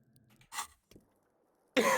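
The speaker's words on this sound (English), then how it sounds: "Again, sorry for my cough." A person coughs, with a couple of short, sharp coughs separated by pauses and a louder, harsher cough at the end, close and without speech.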